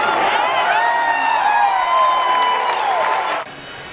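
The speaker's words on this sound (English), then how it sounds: "eventually the crowd enters and it's time to play ball" A crowd cheers and claps at a Cedar Rapids Kernels minor-league baseball game. The loud, steady mass of voices and whoops holds for about three and a half seconds, then drops off abruptly.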